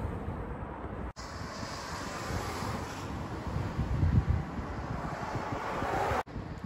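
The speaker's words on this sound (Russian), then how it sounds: "Ветер юго-западный." A south-westerly wind blows outdoors on a cold winter day, buffeting the microphone in a continuous rough roar that swells and eases. Two brief dropouts break the sound.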